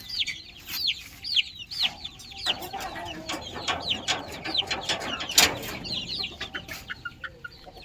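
Chickens and small chicks clucking and peeping in a pen, a busy chorus of high cheeps and short clucks, close and lively with scattered louder calls.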